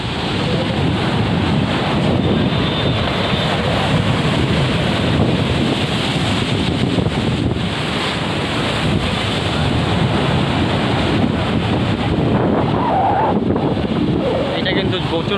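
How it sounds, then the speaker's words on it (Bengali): Violent storm surge waves pounding Old Digha beach: a continuous loud roar of crashing surf mixed with heavy wind buffeting the microphone, steady and unbroken throughout. "চলছে প্রবল ভয়ঙ্কর জলোচ্ছ্বাস ওল্ড দীঘা সমুদ্র সৈকত"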